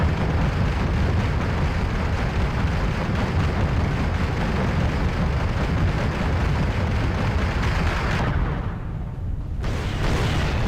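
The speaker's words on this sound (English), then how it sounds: "That artillery is really starting to piss me off." Artillery shelling rumbles through the video game Fatal Error as a dense, loud, continuous roar of explosions, dipping briefly near the end before resuming.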